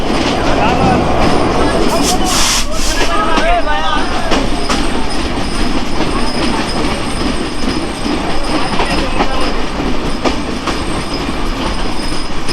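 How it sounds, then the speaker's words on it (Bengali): Loud rumble of express trains, the Sundarban Express among them, at a station with clattering wheels and a brief high squeal, voices talking over the continuous noise. "দুই পাশে দুটো এক্সপ্রেস ট্রেন"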